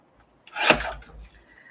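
Paper is trimmed down for a mini lapbook with one short, close scraping swipe that rises quickly and fades within about a second.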